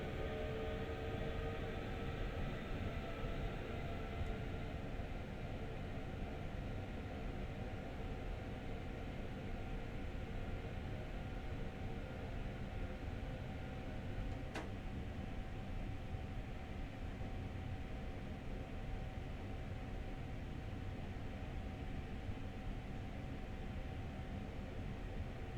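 Steady electric rumble of an LIRR M7 EMU train running in Train Sim World, a broad continuous drone with faint whining tones, holding level throughout with no voices.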